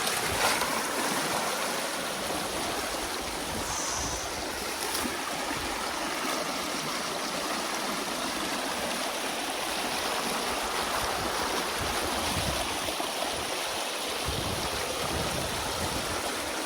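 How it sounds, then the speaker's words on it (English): Water rushes steadily through a collapsing beaver dam, a continuous loud broadband roar of flowing water with no breaks, heard alone. "this dam collapsed"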